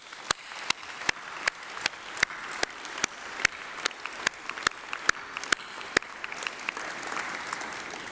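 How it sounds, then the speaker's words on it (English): Graduation ceremony audience gives a round of applause: sharp, evenly spaced loud claps from one nearby person stand out over a softer, continuous background of many hands clapping. "Graduates, please join me in a massive round of applause for all of those."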